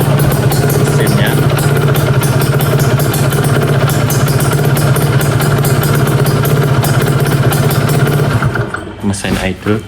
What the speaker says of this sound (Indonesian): Mesin idle kebetulan habis saya panasi.